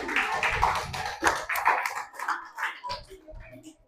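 Students in a classroom clap their hands in uneven bursts of sharp taps. The applause is fairly close but moderate in level and thins out toward the end, with a little talk mixed in.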